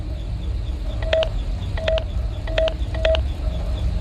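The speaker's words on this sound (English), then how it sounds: "Please enter your name as seen above the keypad." Keypad tones sound as a name is entered in the video game Five Nights at Freddy's Sister Location, four short clustered bursts of electronic beeps at a steady pace, loud and close over a low hum.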